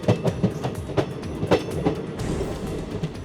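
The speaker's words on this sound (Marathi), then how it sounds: "कोकणात रेल्वे धावू लागली" Konkan Railway train running along the line, with rhythmic clickety-clack of wheels over rail joints, a string of sharp thumps followed by a steadier rolling roar, heard close and without talk.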